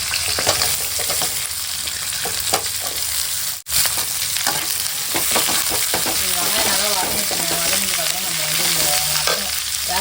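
Onions frying with green chillies and curry leaves in a pan, a loud continuous sizzle with rhythmic stirring and scraping, briefly cut off once, and a voice speaking faintly over it.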